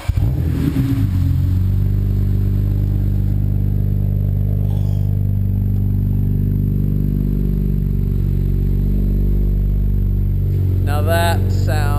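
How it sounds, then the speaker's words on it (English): A BMW 335i fitted with an HPF 3.5-inch stainless steel Gen 2 exhaust cranks and fires, then settles into a loud, deep, steady cold idle heard up close, with a voice briefly speaking near the end. "All right, Ryan, you want to start the car?"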